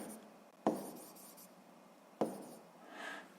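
Pen strokes on paper during a physics exercise, heard as two sharp scratchy bursts about one and a half seconds apart, each fading into a soft rustle in a quiet room.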